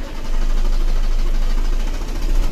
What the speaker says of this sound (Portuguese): Dá partida no motor.